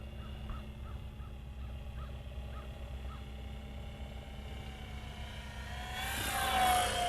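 A distant aircraft drones high overhead at roughly 4,000 feet, a faint steady hum under crow caws at an airfield where a Corsair practises landings, growing slightly louder near the end.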